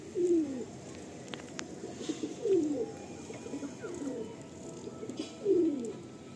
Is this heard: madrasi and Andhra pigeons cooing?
yes